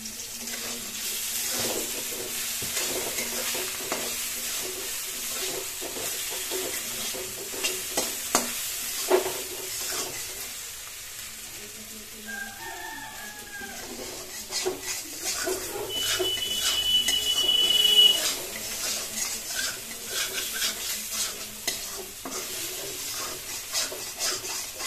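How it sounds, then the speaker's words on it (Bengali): Eggplant fries in mustard oil in a pan, a soft, continuous sizzle broken by the scrape and clatter of a spatula stirring, fairly close and quiet throughout. "আমাদের এখানটা ভাজাটা প্রায় হয়ে গেল"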